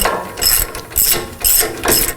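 Socket ratchet loosening a long control arm bolt on a 5th-gen Toyota 4Runner during a lift kit install, four rhythmic bursts of close, loud metallic clicking with short pauses between strokes.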